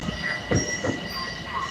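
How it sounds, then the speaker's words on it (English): A commuter train on track 3 rolls through Botanical Gardens Station, its wheels rumbling and squealing with thin screeches and faint clicks at close range, and there is no talk. "That's the train on 3-track now."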